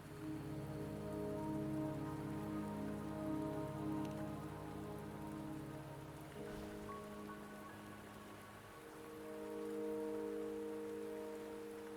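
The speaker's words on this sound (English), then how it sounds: "Don't worry, the rain won't last much longer." Steady rain falls in the video game Wuthering Waves, a soft, even patter over a low sustained musical drone, quiet and continuous throughout with no speech.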